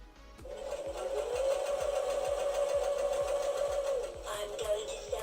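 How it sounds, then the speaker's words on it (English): A sewing machine runs in a steady, rapid stitching rhythm at close range for several seconds, then slows and stops, with faint clicks and handling afterward. "the singing sewing machine."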